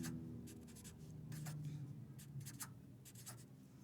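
Pencil or pen scratching out long-division math steps by hand on paper, close and continuous with short strokes in bursts, over a faint low hum with no talking.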